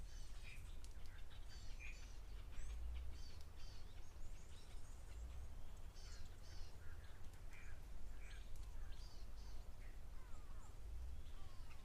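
A black bird calls at an outdoor waterhole. Its short, scattered calls sound faint and distant over a steady low background rumble.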